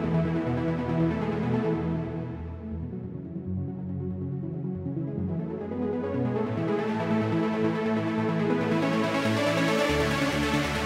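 Euphoric 1990s-style trance synth break in Ableton, played with the filter cutoff swept down and then opened back up: dense sustained chords that dull and darken before brightening again, loud and alone.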